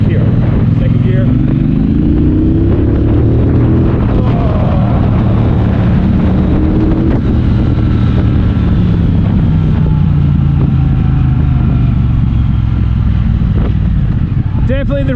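A Triumph Bobber motorcycle engine pulls gently in second gear, a loud low drone with rising tones as it gains speed, heavily buffeted by wind noise from riding.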